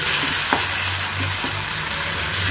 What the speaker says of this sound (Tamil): தக்காளி நல்லா கூழாகணும், அது வரைக்கும் நல்லா வதக்குங்க